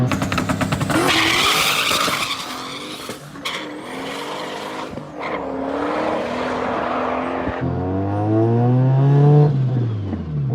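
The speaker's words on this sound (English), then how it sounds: "I love the surge, like the turbo surge." A turbocharged rotary engine in a Mazda RX7 built as a street-driven supercar surges and revs hard, with tire squeal and skidding bursts, then a loud rising and falling engine howl close by.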